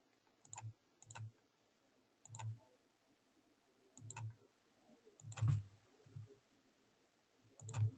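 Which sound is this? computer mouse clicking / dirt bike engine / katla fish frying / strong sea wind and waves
computer mouse clicking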